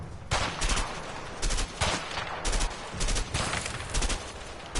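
Repeated bursts of video game gunfire in A Way Out, with rapid volleys and clusters of shots, some near and loud. The shooting comes in uneven waves over a steady noisy background.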